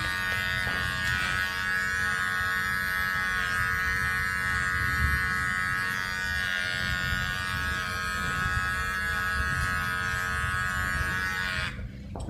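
Electric hair clippers fitted with a full guard buzz steadily while cutting hair in a graduated taper, a constant close hum that runs unbroken for about twelve seconds before cutting off at the very end.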